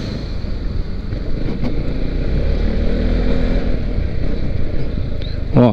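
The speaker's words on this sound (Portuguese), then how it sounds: "Não é uma Lander, é uma scooter. É uma scooter, mas com boa suspensão." A Yamaha XMAX scooter rides over a bumpy, pothole-filled street, its engine a steady close drone under heavy wind rush, with a few knocks from the suspension.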